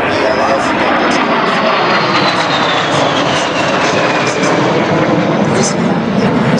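A de Havilland Vampire jet fighter flying at an air show, a steady loud roaring engine drone with a faint falling whine, heard under someone talking.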